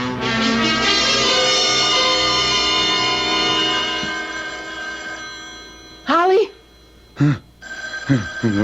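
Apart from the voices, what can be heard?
telephone bell ringing, radio drama sound effect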